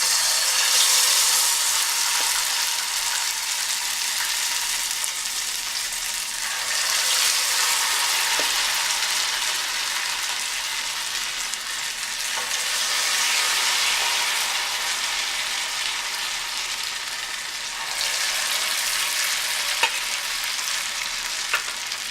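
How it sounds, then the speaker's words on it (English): Akara bean cakes sizzle and crackle as they fry in hot oil, a steady bright hiss that swells and eases in waves over about twenty seconds, with no talking. "So I put my oil. So I'm just going to drop my"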